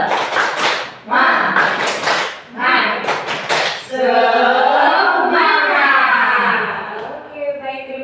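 Several rhythmic bursts of group clapping for the Indonesian 'tepuk semangat' cheer, loud and close, followed by a crowd of voices chanting together.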